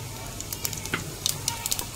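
Whole spices drop into two spoons of hot oil in a pressure cooker and sizzle softly, with a steady frying hiss punctuated by small crackles and pops.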